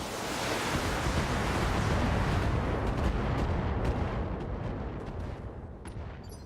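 Mech weapons fire at a target in BattleTech, a broad roaring barrage of heavy, sustained rumbling blasts that swells, holds and then slowly fades, loud and close, with no talking.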